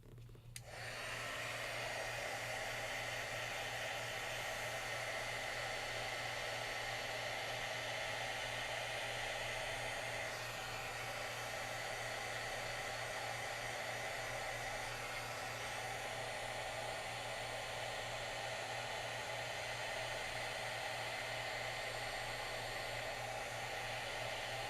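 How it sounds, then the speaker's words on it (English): A heat gun used for heat embossing a craft project starts with a click and then blows continuously, a loud, steady whooshing roar with a low hum that runs unbroken for over twenty seconds. "So I'm going to go ahead and heat emboss this."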